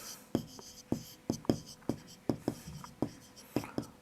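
Chalk or marker writing on a board in a Class 6 maths lesson, a quick series of about a dozen crisp taps and short strokes in an uneven rhythm, close and fairly quiet.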